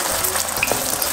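Food sizzles and crackles in hot oil in a pan, a steady close frying hiss with small pops throughout the brief moment.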